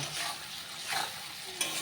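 Spiced mutton curry masala with salt and tomatoes, cooked without onion or garlic, fries in a pan with steady close sizzling and scraping stirs, and a brief louder clatter near the end. No one speaks.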